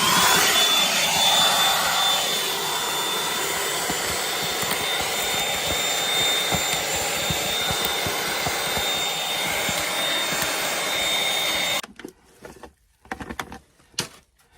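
Shop vacuum sucking grit and material out of rock cracks at a desert waterfall placer gold site, a loud steady roaring whine for about twelve seconds that cuts off abruptly, followed by a few scattered knocks and clatters.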